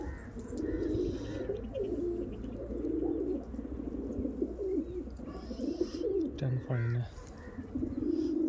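Pigeons coo steadily up close while feeding on scattered grain, a soft repeated throaty burbling that runs the whole time, with a few brief chirps and some background noise.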